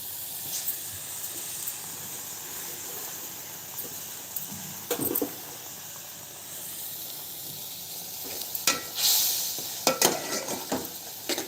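Prawns sizzle steadily in a hot pan, with occasional scraping and clattering bursts as they are stirred.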